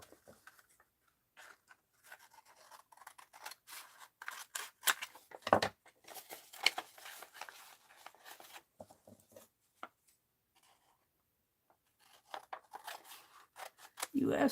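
Scissors snip through paper in bursts of crisp cuts and rustles, with pauses and some soft handling noises in between, heard up close.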